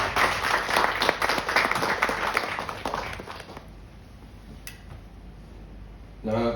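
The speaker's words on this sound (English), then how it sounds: "Let's give them an applause." An audience at a blood bank felicitation event applauds with dense, fairly close clapping that fades out after about three and a half seconds, leaving quiet room noise and a brief final rustle.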